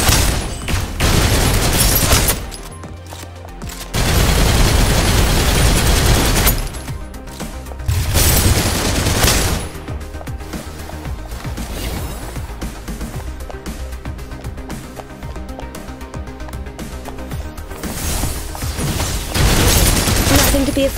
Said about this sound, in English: Hold position, maintain fire!